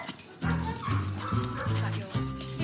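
A corgi puppy at a competitive dog show gives a rapid run of sharp, high yips and barks close by, about five in quick succession, with a bit of whimpering between them.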